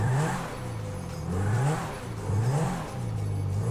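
Modded Lamborghini Centenario in GTA 5 on a test drive, its engine note rising and falling through repeated revving sweeps, steady and fairly close with a whir underneath.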